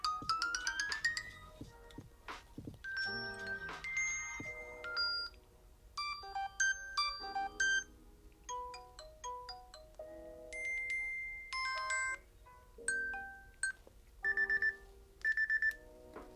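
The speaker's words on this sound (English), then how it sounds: "let's check out some of these sounds just to see what we got. Notification, let's do volume or ringtone." A Galaxy Watch 4 Classic plays a series of ringtone previews, short electronic chimes, melodic beeps and tonal jingles one after another, each cut off as the next begins, clear and close.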